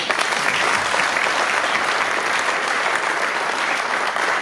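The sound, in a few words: audience applause at aircraft delivery ceremony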